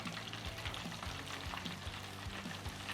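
Battered buttermilk chicken pieces are lowered slowly into hot oil, sizzling and crackling steadily and close, with small pops throughout and no voices.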